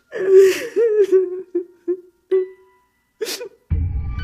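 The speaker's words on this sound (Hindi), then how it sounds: "किसी औरत के रोने की आवाज उसके कानों में पड़ रही थी।" A woman's high, wavering sobs and whimpers break into short gasping bursts with pauses between them, a close, eerie crying effect for an animated horror story, ending on a burst of low rumbling noise.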